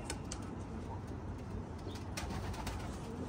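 Kept pigeons or doves cooing softly in a loft, low repeated coos over a constant background hiss, with faint brief chirps and no talk.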